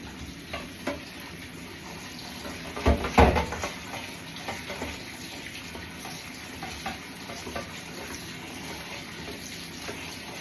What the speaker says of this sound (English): I'm going to put all that in my colander, and I'm going to rinse it under the cold tap